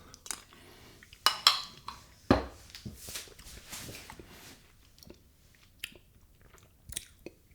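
Someone tastes fermented tomatoes, with soft, scattered chewing and biting crunches and a few light clicks of dishes or cutlery, all quiet and irregular in a hushed room.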